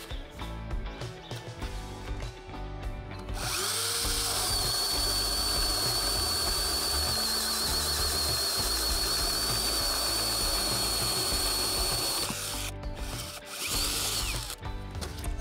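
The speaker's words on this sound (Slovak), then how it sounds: "Ďalej pokračujem vrtaním otvoru o priemere 65 mm na 8 Ah batérii" A HERMAN AXSP-1803 cordless drill on an 8 Ah battery, set to first speed, bores a 65 mm hole and whines loud and steady for about nine seconds, with lighter tool handling noise before and after.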